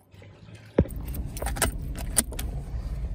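Keys jangle sharply in several bright bursts as a 1.2-litre Maruti Baleno is about to be started, with a low idle-like rumble underneath.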